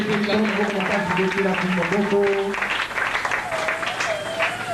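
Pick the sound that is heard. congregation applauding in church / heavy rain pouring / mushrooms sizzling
congregation applauding in church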